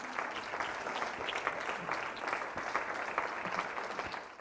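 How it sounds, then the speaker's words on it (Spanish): A church congregation applauds during a Spanish-language sermon, dense sustained clapping from many hands, fairly distant and even, without talk over it. "Pues denle un aplauso bien fuerte al Señor."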